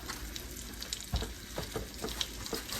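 Turkey wings fry in hot grease, a steady close sizzle with scattered pops and crackles, one sharper thump around the middle.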